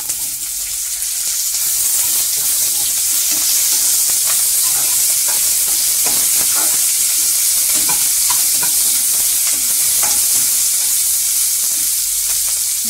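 Sliced onions sauté in a pan for a chappathi gravy, giving a steady, loud broadband sizzle for the whole stretch with occasional stirring scrapes and no talking.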